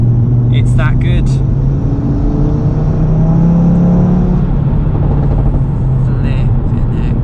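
A Stage 2 MRC-tuned Audi RS3 drives a mountain road, its engine a loud, steady rumble with rising and falling tones as it pulls through the gears, and a person talks over it.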